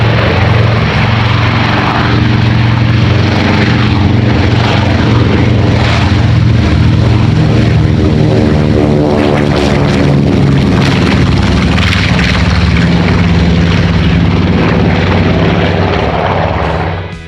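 Avro Lancaster heavy bomber, a four-engine propeller aircraft, drones loudly and close by with a steady throbbing roar and beating tones that swell and shift in pitch before fading slightly at the end.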